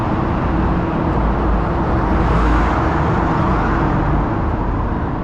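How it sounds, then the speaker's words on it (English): Dense, steady roar of freeway traffic reverberating beneath the elevated lanes of the 10 Freeway in a tunnel-like underpass, a continuous loud low rumble with a slight swell near the middle, no talking. "And the traffic noise really echoes too."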